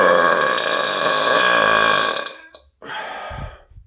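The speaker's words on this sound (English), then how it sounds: "I will burp for you guys." A long, loud, rumbling human burp that lasts about two seconds, followed after a short gap by a second, briefer belch, both produced alone with no talk.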